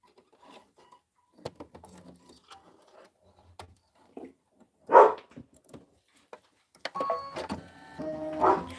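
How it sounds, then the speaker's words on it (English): Indoors, a dog lets out a few short, sharp barks at irregular moments among quiet room sounds and faint clicks. "Sorry, you have to put up with a little bark."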